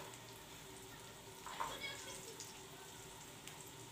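Rolled dough pastries (Oran-style maakouda) frying in hot oil give a steady, quiet sizzle with a brief crackling burst near the middle, nearby and with no one speaking.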